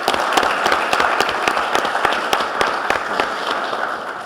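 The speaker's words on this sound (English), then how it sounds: "Please join me for a round of applause for Dr. Jeff Rocker" A conference audience bursts into loud, dense applause, with sharp individual claps cracking through a continuous wash of many hands throughout.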